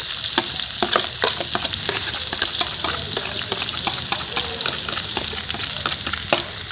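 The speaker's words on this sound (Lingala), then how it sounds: "Nasali boye kokalinga sauce liboso" Tomato sauce made from fresh and canned tomatoes fries in a pot with a bright, constant sizzle, broken by frequent sharp scraping clicks as a spoon stirs it up close.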